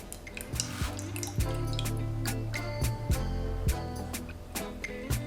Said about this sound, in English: Now pour that in slowly.